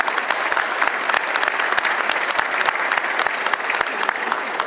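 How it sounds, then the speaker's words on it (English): An indoor audience at a San Antonio political gathering claps in dense, sustained applause, with no voices standing out. "let's please give a round of applause"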